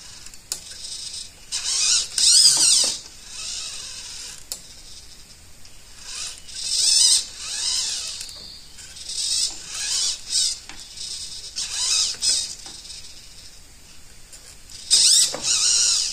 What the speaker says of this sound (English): by turning that screw, I can alter the speed of the trolling motor turn